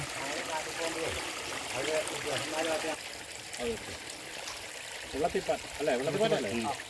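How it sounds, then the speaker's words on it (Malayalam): A small stream flows through forest in Idukki, giving a steady, close watery rush throughout while people talk over it. "കാട്ടിനുള്ളിലെ ചെറിയൊരു അരുവിയിലേക്ക് എത്തി"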